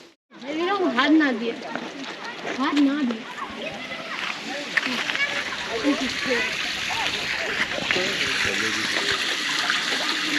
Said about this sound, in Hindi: तो पुल से पानी जा रहा है नीचे